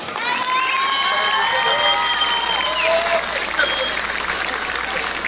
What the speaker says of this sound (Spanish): Recibamos con una fuerte, fuerte, fuerte ovación a San Andrés Miraflores.